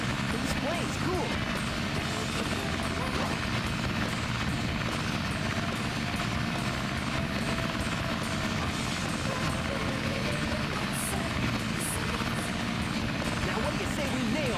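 A plane flies in the Sonic Adventure video game, with a constant loud droning engine roar that continues unbroken.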